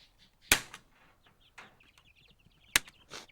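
Young chicks being moved from a brooder to pasture give a few soft peeps and clucks close by, with two sharp knocks and some light rustling between the calls.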